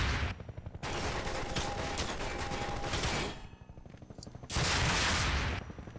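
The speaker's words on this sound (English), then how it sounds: "This is more than a dozen rockets now." Rockets being fired in Half-Life 2, heard as loud sustained bursts of roaring, crackling blasts that drop away briefly and then return, dense and close.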